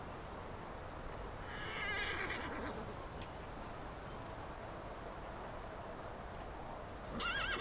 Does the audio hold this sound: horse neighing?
yes